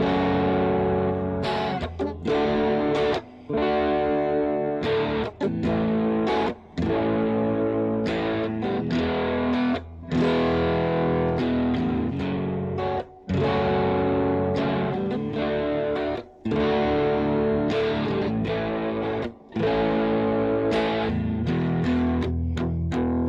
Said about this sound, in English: we're going to play a bit on the crunch channel. So we're going to give it just a little bit of drive.